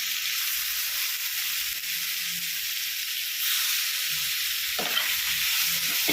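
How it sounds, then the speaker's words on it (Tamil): Prawns frying in a pan give a loud, steady hiss and sizzle, close by and continuous, with a few soft stirring scrapes and no talk. "இப்போ இறா வந்து எவ்வளோ தேவையோ நம்ம அதை போட்டு நம்ம வறுத்துக்கலாம்"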